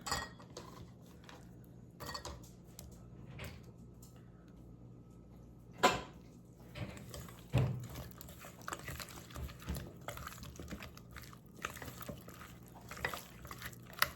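Chopped cucumber pieces dropped into a bowl, with soft scattered thuds and clatter of dishes and utensils close by in a quiet kitchen, several irregular knocks over low background noise.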